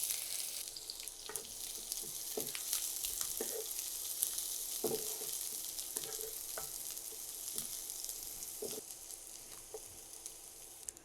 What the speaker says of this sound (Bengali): তেলটা গরম হয়ে গেছে, আর এখানে আমি 2টো পেঁয়াজ কুচি দিয়ে দিচ্ছি।